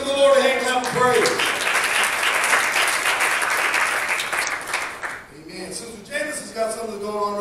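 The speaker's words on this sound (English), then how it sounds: "Let's give the Lord a hand clap of praise." A church congregation claps together in sustained, dense applause for several seconds in praise, tapering off near the end as voices return.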